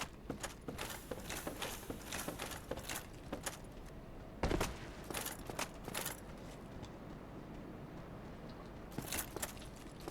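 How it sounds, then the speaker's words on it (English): Footsteps in the video game Dark Souls Remastered, a steady run of soft clopping steps under constant ambient game noise, fairly close, with no talking. "I hear footsteps"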